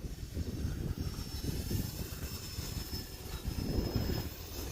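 An E-flite Turbo Timber Evolution RC airplane flies inverted in windy conditions, its electric motor and propeller giving a steady, fairly distant whine under gusty wind noise.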